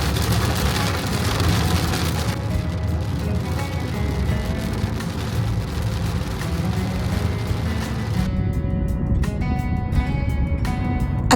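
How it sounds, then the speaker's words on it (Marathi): Rain begins falling during a road trip through Karnataka near Belgaon, a dense steady patter on the car with road rumble beneath, thinning into scattered drops toward the end. "आता पावसाला सुरुवात झाली आहे"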